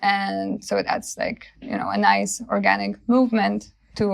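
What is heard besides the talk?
None of the usual background noises is heard.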